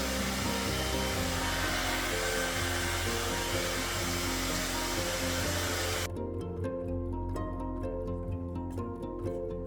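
A hair dryer blows steadily over an epoxy resin mixture, a loud, continuous whooshing drone that softens slightly partway through as the airflow shifts.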